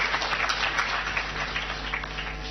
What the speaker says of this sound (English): You can clap for your MPs who are here.